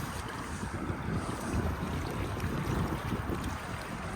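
Pumped water gushes out into a farm ditch from pumps set beneath field grids, a steady, dense churning wash that runs unbroken and fairly loud, with wind buffeting the microphone throughout.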